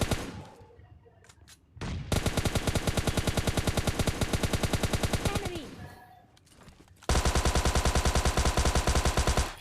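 Rapid automatic gunfire in the mobile shooter PUBG Lite rattles in long sustained bursts with a short pause between them, loud and dense, with brief quieter moments before and between the volleys.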